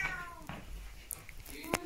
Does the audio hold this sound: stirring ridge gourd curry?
no